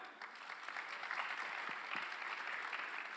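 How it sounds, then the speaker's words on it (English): Audience in a seminar hall applauding, a dense even patter of many hands at moderate volume, sustained from start to finish without talk. "So a round of applause for that."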